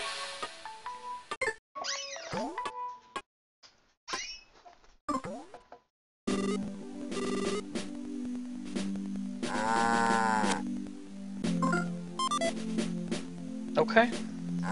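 A cow in the Mother 3 video game lets out a synthesized moo, a warbling, pitched tone standing out amid chiptune-style game music and sound effects, with a person talking over parts of it.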